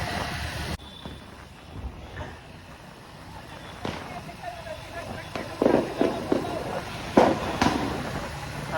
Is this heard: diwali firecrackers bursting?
yes